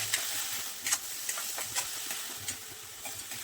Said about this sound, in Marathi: जी आपण स्वच्छ धुवून ठेवली होती भगर ती घालायची आहे आणि तुपावर ही छान अशी परतून घ्यायची